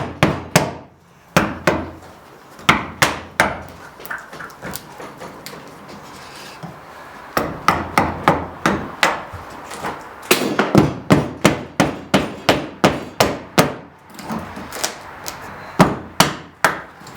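Repeated sharp hammer blows smash hard material on a canoe, coming in irregular bursts of quick hits with short pauses, loud and close, no talking.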